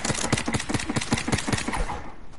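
Rapid-fire gunshots from a spammed weapon in a video game, a tight burst of about a dozen evenly spaced sharp cracks in quick rhythm, loud and close, with no talking.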